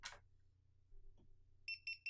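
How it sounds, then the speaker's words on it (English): A GoPro Hero camera beeps when plugged into a computer, giving a few short, clear electronic tones close by near the end after a brief click, with no talking. "wait a couple seconds, it'll beep"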